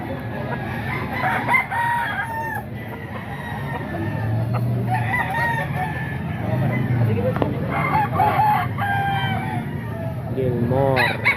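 Several Gilmore gamefowl roosters crow repeatedly at close range, their calls rising over steady chatter and background noise of a crowded marketplace.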